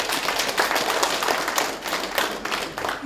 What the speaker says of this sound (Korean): 감사하다는 표시로 큰 박수 한번 부탁드리겠습니다